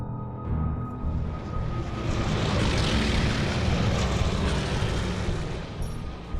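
WWII-era propeller aircraft engines drone in a loud, steady roar that swells and holds, heavy and continuous with no voices, as a large formation heads across the Channel toward Normandy on the eve of D-Day in June 1944.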